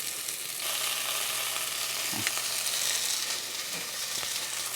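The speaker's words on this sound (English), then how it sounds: "Gonna rotate the pieces. And now let this side brown for a little bit." Beef pieces for a Dutch hachee stew browning in hot oil in a pan, giving a steady, close, even sizzle with small crackles throughout and no talk.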